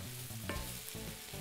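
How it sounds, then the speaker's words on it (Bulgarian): Mushrooms frying in a pan while being stirred, with a steady close sizzle and one scraping stir partway through, no voices. "И сега вече мога леко да ги разбъркам, за да знам, че равномерно са се запържили."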